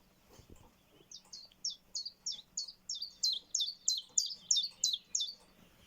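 Common chiffchaff song: a bright, evenly spaced series of about a dozen repeated two-note chirps, growing slightly louder, sung clearly and fairly close against a quiet background.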